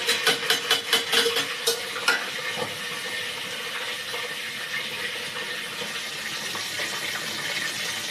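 Curry leaves, coriander and whole spices such as cinnamon hit hot oil for vegetable brinjal rice with a burst of sharp crackles and pops, then settle into a steady close sizzle with light stirring and no voices.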